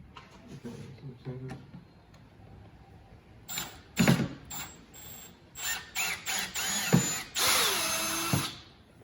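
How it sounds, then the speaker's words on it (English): A power drill backs drywall screws out of a wooden coffee table in several close, whining bursts of rising and falling pitch with ratcheting clicks between them, and someone speaks briefly before the drilling. "we have 4 drywall screws that we're going to take out"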